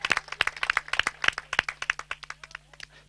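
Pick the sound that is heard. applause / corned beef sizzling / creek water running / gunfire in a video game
applause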